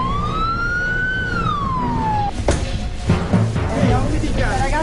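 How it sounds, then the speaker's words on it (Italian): An emergency vehicle siren wails in a single rising and falling sweep, loud and close, then cuts off as other street noise and thumps follow. "Poi ricordo solo l'urlo della sirena."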